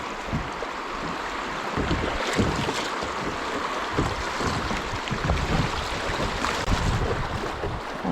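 Rushing fast water on the Upper Ouachita River heard while floating downstream, a loud, steady broadband splash and gurgle with irregular surges, close by and continuous with no talking.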